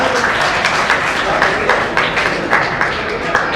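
Applause from an audience at a prize distribution event, a dense patter of clapping that carries on steadily, with voices mixed in underneath.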